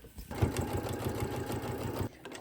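A sewing machine stitches a fabric bag seam in one rapid, even burst of mechanical ticking at close range, stopping after about two seconds.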